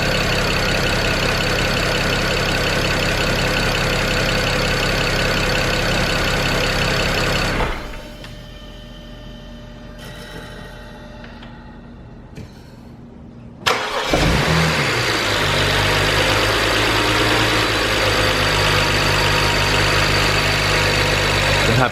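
A BMW E90 335i engine runs steadily, shuts off into near silence for several seconds, then cranks and catches with a sharp restart before settling back into a smooth, loud idle, with no talk.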